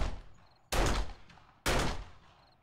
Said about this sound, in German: Wir haben sogar 3 Schüsse gebraucht.